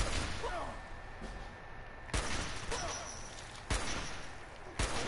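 Gunfire in the Fallout 4 video game, with several sharp loud shots spaced a second or so apart over constant background game noise.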